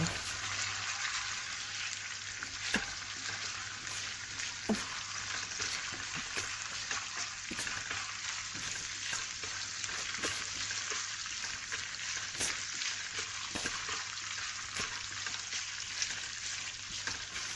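Garlic paste, chopped onions and green chili fry in a pan for a whole moth dal tadka, giving a steady, even sizzle with a few faint clicks on top and no talk.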